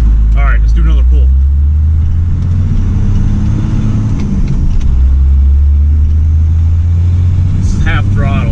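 A Ford F-350 diesel pickup pulls hard in fourth gear at about half throttle, its deep engine rumble loud and steady throughout, with a voice talking briefly near the start and again at the end.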